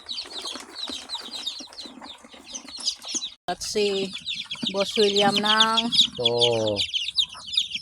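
Hens and chicks clucking and chirping around a backyard coop in the Philippines, busy high chatter throughout, with people talking nearby.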